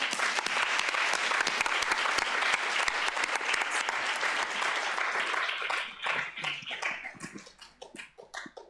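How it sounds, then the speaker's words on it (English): Applause at a round table discussion on art and decolonisation, a dense, loud wall of clapping for about six seconds that thins out into scattered individual claps and dies away. "we'll give you an applause"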